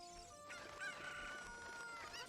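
Clucking cucco chicken in the Ocarina of Time video game, a short game sound effect with warbling calls riding over steady background music, fairly quiet.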